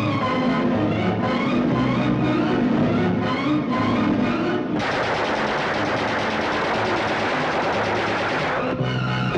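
Sustained automatic gunfire in a scene from a Hindi suspense thriller, loud and dense, with rapid bursts continuing throughout and growing heavier partway through, alongside dramatic background sound and no speech.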